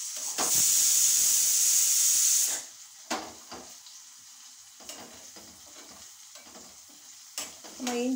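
Pieces of elephant foot yam hit hot oil, giving a loud, bright sizzle for about two seconds before it cuts off. Sparse clinks and scrapes of stirring follow in a quieter stretch.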